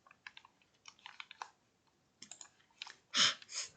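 Keys on a computer keyboard are tapped in quick irregular runs as a login ID and password are entered, a light close clicking with a pause midway and two heavier presses at the end.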